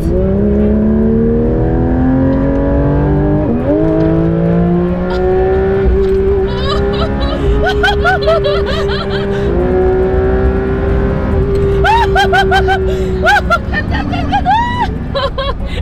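A Porsche GT4 RS race car on a circuit, its engine note climbing steadily through the gears with a clear drop at each shift. The sound is loud and close, like from inside the cabin, with high-revving whine throughout.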